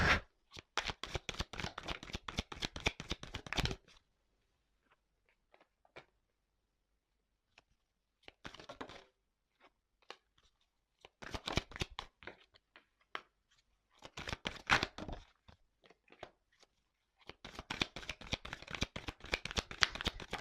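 Tarot cards are shuffled in several riffling bursts separated by quiet pauses, crisp rapid flutters close up with no voices.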